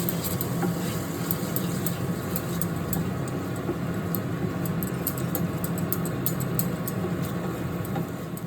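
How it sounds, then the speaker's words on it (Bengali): Ginger garlic paste frying in a pan with peas and potatoes, stirred steadily, giving a continuous close sizzle with light scraping and faint clicks from the utensil. "এবার আমরা এর সাথে আদা রসুন পেস্টটাও দিয়ে দেবো। এবার আবার ভালো করে কিছুক্ষণ ধরে নাড়াচাড়া করতে হবে।"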